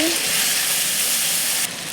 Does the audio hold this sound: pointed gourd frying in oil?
yes